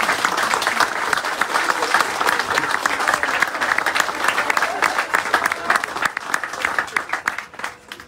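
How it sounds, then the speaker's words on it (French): Sustained applause from a crowd at a municipal event in Thenon honouring a five-a-side football gathering, dense steady clapping lasting throughout and tapering slightly at the end, with some voices mixed in. "Vous pouvez les applaudir."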